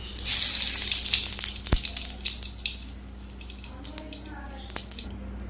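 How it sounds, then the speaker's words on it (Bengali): Whole cumin seeds sizzling in hot oil in a wok while making mustard hilsa, a steady broadband crackle and hiss that fades slightly, with scattered pops and a faint low hum underneath. "কড়াইতে আমি তেল দিয়ে দিয়েছি"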